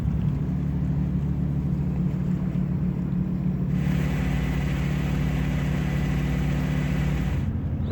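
A boat motors across the water toward a dock in Alaska, its engine a loud, steady low drone throughout, with a brief change in tone partway and no talking.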